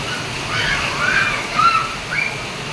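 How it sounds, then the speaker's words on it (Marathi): Heavy rain pours on the first monsoon night in Surat, a steady rushing wash of water that swells slightly midway, with no clear voices. "पण रात्र झाल्यावर पाऊस पडायला लागला"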